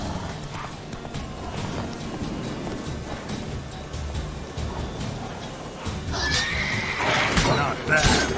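Roach, Geralt's horse in The Witcher 3, neighs and whinnies over clip-clopping hooves and game ambience. A voice talks over the sound, and the noise swells louder toward the end.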